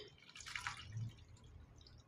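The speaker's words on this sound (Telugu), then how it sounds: "కొద్దిగా నీళ్లు పోసుకోవాలి" A little water is poured into a cooking pot of dal with spinach, green chillies and onion, making a brief, soft splash and a few drips, quiet and alone.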